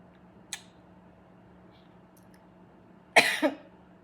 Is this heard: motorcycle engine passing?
no